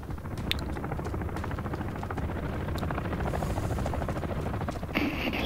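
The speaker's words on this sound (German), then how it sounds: "Wer hat denn hier einen Hubschrauber gerufen? Söldner Hubschrauber." A mercenary helicopter in Call of Duty Modern Warfare holds a steady, loud rotor thump and turbine whine for the whole stretch, close and continuous, with faint game effects over it.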